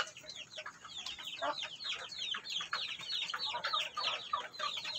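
Pet chickens cluck and chatter busily while feeding, many overlapping short calls in a quick uneven rhythm, close by and moderately loud, with no talking.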